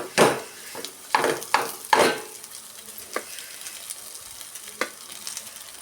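Egg rice being stirred and mixed in a hot pan, with a few distinct scraping strokes of a utensil against the pan over a faint sizzle, then quieter intermittent stirring.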